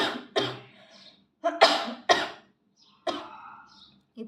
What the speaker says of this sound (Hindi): इतने में मुझे खाँसी आई,